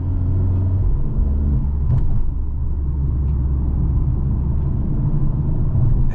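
A 2023 Mercedes-AMG GLA 45 compact SUV hums along with a steady low engine rumble and road drone from inside the cabin, holding an even, continuous level throughout.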